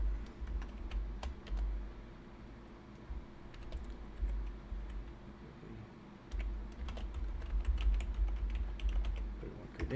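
Typing login credentials on a computer keyboard while connecting to a Windows deployment server, with steady quick key clicks running throughout over a low background hum, and nobody talking.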